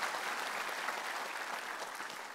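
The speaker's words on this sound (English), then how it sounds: "can we give him a good hand clap of praise this morning?" A church congregation claps together during a morning worship service, a steady dense wash of applause that holds level for the whole stretch with no voices over it.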